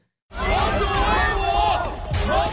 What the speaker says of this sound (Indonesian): Seketika sorak-sorai pun menggema di seluruh penjuru arena